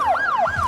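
Ambulance siren from the hospital management game Project Hospital, a clear electronic wail sweeping up and down in a steady repeating cycle, loud and close, heard alone.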